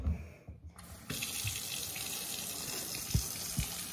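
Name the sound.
water from a tap filling a bottle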